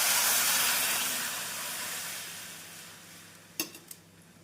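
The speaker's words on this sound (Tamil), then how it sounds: "இந்த சமயம் நாம் புளி தண்ணீரை சேர்த்து விடலாம்." Tamarind water poured into a sautéed rasam tempering: a loud hissing sizzle that bursts up at once and fades steadily over several seconds, followed by a couple of sharp clinks of a utensil against the pot, close and without speech.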